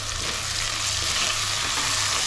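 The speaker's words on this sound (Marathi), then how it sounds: "आता आपण यात टमाटर घालूया, मी इथे 2 टमाटर घेतले, ते पण मी असे मोठे मोठे कापून घेतले" Onions and tomatoes fry in a pan, a steady, even sizzle heard close up with no talking.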